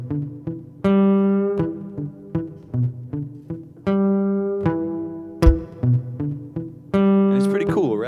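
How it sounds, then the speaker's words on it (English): Studio bass line played back from a recording session, a loud plucked groove of repeated low notes with short gaps between phrases, alone and close. "we started with this really cool bass line from my co-producer"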